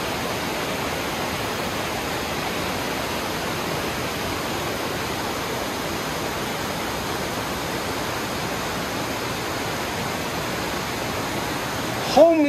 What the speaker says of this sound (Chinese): 轰鸣的水声